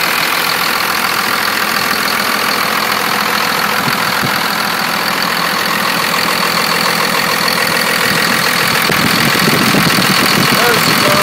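A 1999 Dodge Ram 2500 4x4 with a Cummins turbo diesel engine idles nearby, a loud, steady, even clatter with constant diesel rumble throughout, with no pauses.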